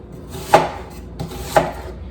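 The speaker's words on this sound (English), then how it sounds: "we're gonna need an onion. Got a nice choppity chop" Two sharp knife chops through an onion on a cutting board, evenly spaced about a second apart, crisp and close with quiet kitchen ambience between.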